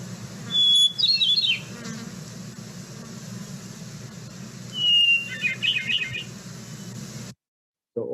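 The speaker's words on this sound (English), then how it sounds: "hermit thrushes they sing a single note and then either go up the scale, down the scale, or maybe just sort of straight across" A hermit thrush sings in a forest, two separate fluting phrases, each opening on a held note and then tumbling, heard at moderate distance over a steady low background hum with buzzing insects.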